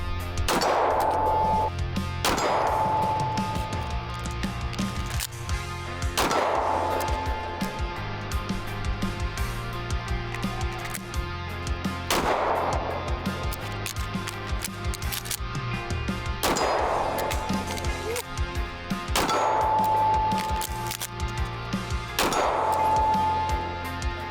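A Belgian-made Browning Hi-Power pistol, new and still breaking in, fires several loud sharp shots in spaced bursts, each crack followed by ringing echo, with a short pause between groups of shots.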